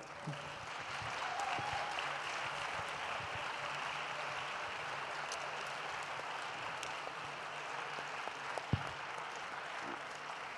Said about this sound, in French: on peut applaudir ces athlètes afghanes